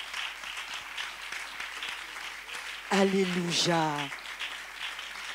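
A church congregation applauds in a steady, diffuse wash while a voice rises clearly over the clapping in a sung call.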